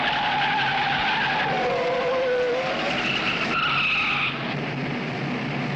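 A Formula 1 car brakes hard into a corner at Interlagos, its engine note dropping sharply through downshifts with loud, close tire scrub, then settling into a steadier whine.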